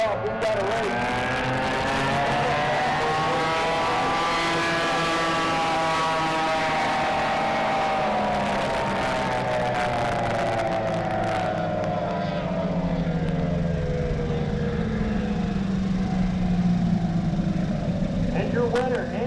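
Racing boat engines roar together at the start of a drag-style boat race from a starting barge, a loud sustained whine with falling and rising harmonics as the boats accelerate and pass, with commentary talk over it.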